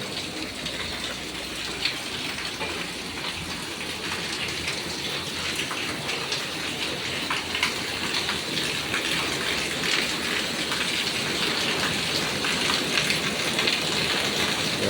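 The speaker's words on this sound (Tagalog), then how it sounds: "Sobrang lakas ng ulan." Heavy rain pours down steadily, a dense roaring wash of drops drumming on surfaces, loud and continuous with occasional heavier spatters.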